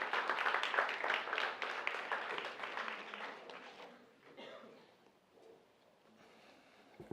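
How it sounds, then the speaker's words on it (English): Audience applause for a presenter at a lightning-talk session, loud and dense at first, then thinning and fading over the last few seconds. "So, round of applause for Ferran"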